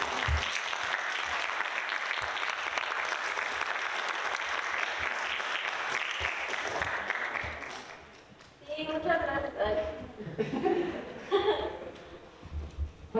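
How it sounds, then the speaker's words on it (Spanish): A conference audience gives sustained applause for about eight seconds, dense and loud, then the clapping fades as a person starts talking with some light laughter. "ahora sí, un fuerte aplauso"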